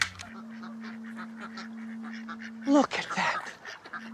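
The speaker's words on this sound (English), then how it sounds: "Ducks on the lake." Ducks on a lake give a burst of honking quacks near the end, after a steady low hum, with someone speaking briefly over the scene.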